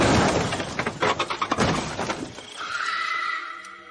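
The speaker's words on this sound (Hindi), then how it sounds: "और बहुत तेज लिफ्ट के टकराने की आवाज आती है।" A loud, close crash of a cartoon elevator, metal banging and clattering in a rapid burst, then a ringing tonal whine that trails off.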